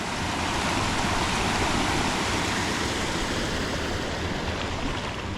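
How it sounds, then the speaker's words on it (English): Shallow creek about a foot deep running beside a public road past old concrete, a steady broadband rush of flowing water that stays close and even throughout with no voices. "this is just a creek"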